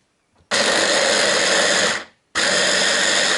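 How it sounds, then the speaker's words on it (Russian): An electric chopper finely chopping onion runs in two loud, steady whirring bursts, separated by a brief pause. "Миксер шумит очень громко."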